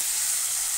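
Ground spice paste sizzling as it goes into a pan for mutton curry, a bright, steady frying hiss that stays constant and close for the whole brief moment, with no talking.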